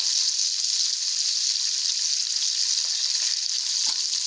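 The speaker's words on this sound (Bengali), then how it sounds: "পেঁয়াজটা আমার ভাজা হয়ে গেছে" Onions fry in hot oil with a steady, dense sizzle that stays loud and even throughout, with no voices.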